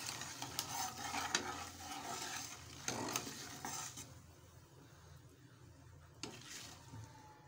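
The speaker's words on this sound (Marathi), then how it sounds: "मिश्रण छान एकजीव करून घेत आहे।" Poha chivda mixture with turmeric is stirred in a pan, with close, repeated scraping and clinking of a spoon against metal and a soft sizzle underneath, fading quieter toward the end.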